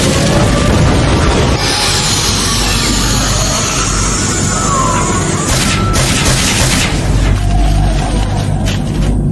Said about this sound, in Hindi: Fire style flame bombs!